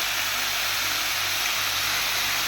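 Cabbage dropped into a hot pan with spice tempering gives a steady, loud broadband sizzle that holds evenly throughout, with no voices over it.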